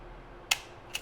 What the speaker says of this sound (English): You just look through the back and press your shutter.